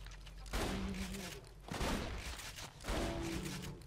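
Gunfire from a Borderlands 2 gameplay session as the player shoots at spiders, with three loud bursts of shots spaced about a second apart, each with a booming low thump.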